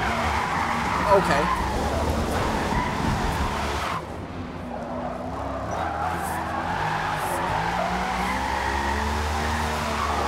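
Tires skid and squeal as a 1000hp 1969 Dodge Charger drifts through a J-turn in Forza Motorsport, a steady loud engine roar with sustained tire noise running throughout while someone talks over it.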